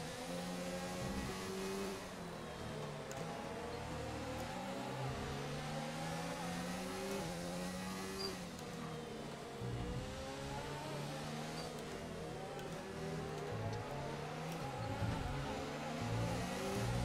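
Formula 1 race cars in the F1 2019 video game roar together at high revs, a dense and steady layered engine drone with shifting pitch as the cars jostle for position and overtake, loud throughout with no talking.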